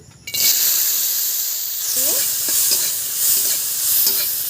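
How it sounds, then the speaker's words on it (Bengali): Cashews and raisins fry in a little oil in a wok with a steady sizzle that begins abruptly, with a few spatula scrapes and knocks of stirring throughout. "কাজু কিশমিশ ভেজে নিচ্ছি।"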